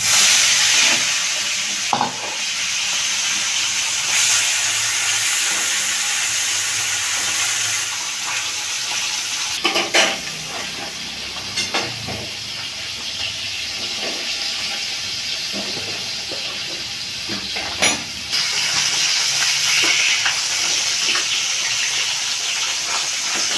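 Khoira fish frying in hot oil, a continuous bright hiss and sizzle with occasional spatters and stirring knocks, close and steady for the whole stretch.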